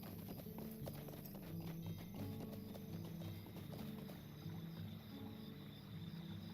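Horse hooves clip-clop steadily in a fantasy online role-playing game, a continuous rhythmic trotting close up with game ambience and a faint background hum, no talk.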